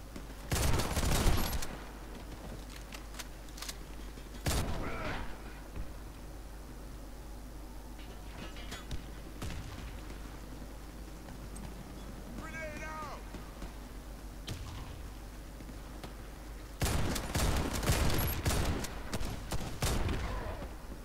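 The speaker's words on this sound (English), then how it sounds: "This shotgun is really strong." Shotgun blasts in the Chernobyl video game: a few loud, widely spaced booming shots over quiet ambient background, with a person talking between them.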